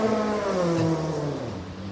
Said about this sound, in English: Let's wait till these cars leave here.